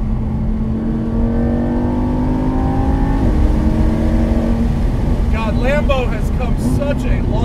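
A Lamborghini Huracan Spyder engine hums and climbs in pitch as it revs, a sustained close drone that carries on beneath people talking in the second half.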